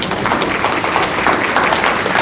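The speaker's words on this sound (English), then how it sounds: "that's a round of applause worthy" Brief burst of applause from a summit audience on overdose prevention, a close, dense patter of many hands clapping at an even level for a couple of seconds.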